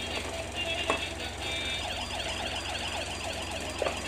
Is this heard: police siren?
yes